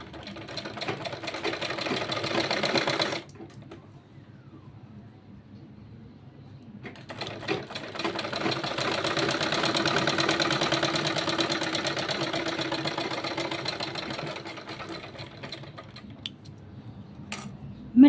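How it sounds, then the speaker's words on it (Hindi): A sewing machine running double-stitch seams on a small child's kurta, two steady bursts of motor whirring and needle clatter separated by a brief pause, close and moderately loud with no talking. "मैं डबल सिलाई चला रही हूँ यहाँ पर,"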